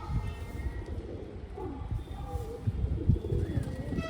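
Pigeons cooing on a clear day outdoors, soft repeated low coos over a steady murmur of background noise, with some faint chirps and no clear wing flapping.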